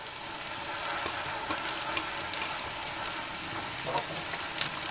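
Finely chopped onion and spring onion frying in a generous amount of oil, a steady close sizzle with faint stirring clicks and no talking.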